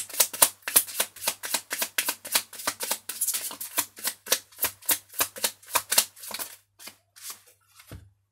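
A deck of tarot cards is riffled and dealt, making a rapid run of crisp flicking snaps that gradually slow and thin out toward the end, close and clear with no talking.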